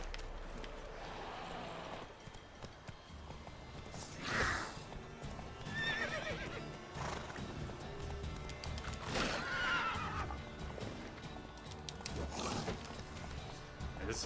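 In The Witcher 3, the horse Roach neighs and whinnies several times amid clopping hooves, the calls rising loud and sharp over a soft game soundscape.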